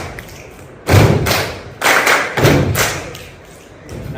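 A group claps in a 1-1-2-1 pattern at a teacher training session in Medan, North Sumatra: heavy, thudding bursts of clapping in a loose repeating rhythm, close and loud, with no talking.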